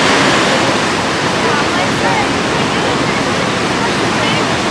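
Ocean waves breaking on a beach, a loud, continuous wash of broadband surf noise without pause, close and filling the whole stretch.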